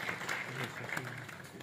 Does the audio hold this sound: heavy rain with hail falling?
no